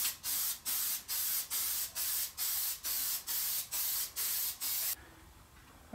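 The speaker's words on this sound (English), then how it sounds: "give that a good spray of spray adhesive on the back side of this" Spray adhesive is sprayed onto the back of a paper pattern in about a dozen short, evenly spaced hissing bursts that stop abruptly at the end. The bursts are close and loud, with no voices.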